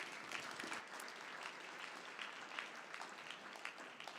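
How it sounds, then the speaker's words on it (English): An audience at a climate and food security panel applauds the panelists, a steady wash of many hands clapping together, sustained and fairly distant, without pauses through the whole stretch. "Can we give our panelists another round of applause?"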